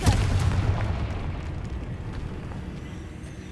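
A Confringo blasting spell explodes in a fantasy video game, a loud rumbling boom that erupts at once and then slowly rolls off over a few seconds with a dense, low roar.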